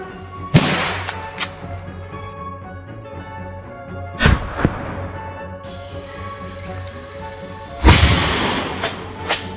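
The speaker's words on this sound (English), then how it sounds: "raised his rifle, locked onto the target, and pulled the trigger" A rifle fired at wild boars at night: three sharp, loud shots spaced a few seconds apart, each with a rolling echo that trails off.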